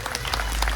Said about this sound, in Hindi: एक बार ताली बजा के बताइए।